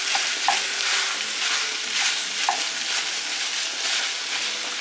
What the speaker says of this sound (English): We're just going to break the mince down,